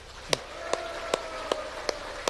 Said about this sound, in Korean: 목사님들께 큰 박수 부탁드립니다